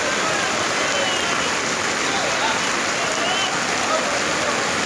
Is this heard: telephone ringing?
no